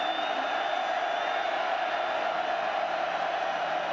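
A football stadium crowd at a USC versus Oregon college game roars steadily on third down, a dense, continuous wash of cheering and shouting with no break.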